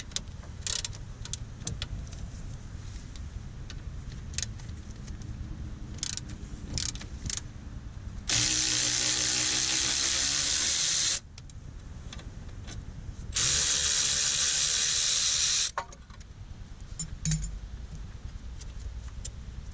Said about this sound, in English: Now remove the two caliper bolts.